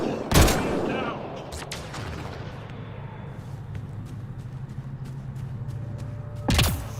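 A pistol fires in Mass Effect: Andromeda on Havarl, with two sharp loud shots near the start and end and a low steady rumble between them.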